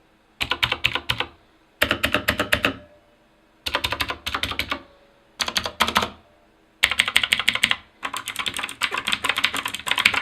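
Rapid bursts of clicking from the enter and shift keys of a Corsair K95 Platinum keyboard, grouped in six clusters split by short pauses. The sound is close, sharp and loud, and no one speaks.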